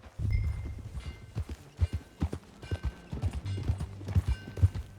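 Horse hooves in Red Dead Redemption 2 clopping in an uneven walking rhythm with low thuds and light tack jingles, close and moderately loud, with a brief snort and no speech.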